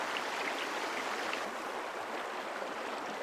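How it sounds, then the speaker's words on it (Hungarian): A river flows steadily outside a window, giving a faint, even rush of water that continues throughout with no breaks or voices. "Hallok mindig a folyót."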